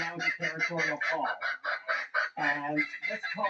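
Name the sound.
territorial call of an Australian native bird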